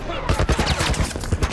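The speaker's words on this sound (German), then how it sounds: "die schießen mit einer Art Geschützturm auf uns" Rapid turret gunfire in The Last of Us Remastered: a dense burst of loud, sharp shots in quick succession, close and punchy, with a voice briefly audible beneath.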